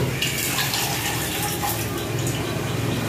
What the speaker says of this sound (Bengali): এই দেখো কোনটুকু জল দিয়েছি